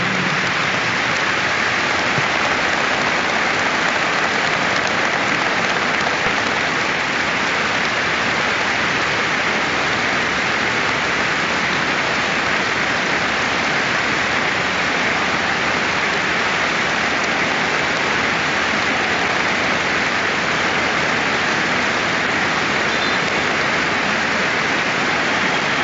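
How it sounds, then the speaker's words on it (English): A stadium crowd at a Windsor Park football match, Northern Ireland against Slovakia, gives sustained applause as a steady, dense wash of sound that holds at an even, loud level throughout with no voices on top. "Please join us now in a moment's applause for the four individuals who have given so much to our game"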